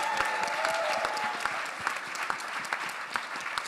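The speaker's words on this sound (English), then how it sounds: "can we just get another round of applause for all of our candidates?" Audience applause at a cultural entrepreneurship pitch event, a dense steady wash of many hands clapping throughout, with no talk over it.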